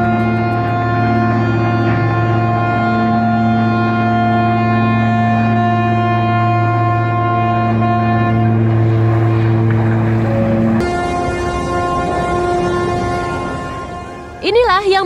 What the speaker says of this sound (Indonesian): suara klakson panjang dan suara gesekan keras terdengar saat kapal itu